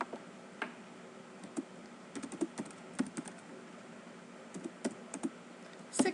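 Keys clatter in scattered bursts on a computer keyboard during a software lesson, with irregular close clicks and short pauses over a steady low room hum.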